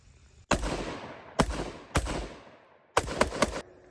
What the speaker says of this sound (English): Normal semi-automatic function, which you can do on this weapon.